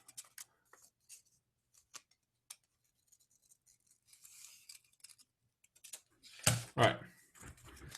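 Scissors snip paper in a few sparse, crisp cuts after soft rustling handling, with one louder close snap and crunch of folded paper near the end.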